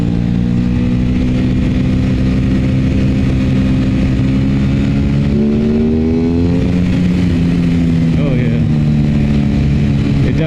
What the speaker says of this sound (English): Definitely accelerates a lot faster.